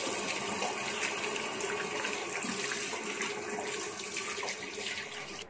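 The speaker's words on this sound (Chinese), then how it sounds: "再用温水冲洗两遍，这样很快就冲洗干净了" Warm water runs steadily from a tap over a fresh pig stomach being rinsed in a sink, a continuous, fairly quiet gushing splash with no speech.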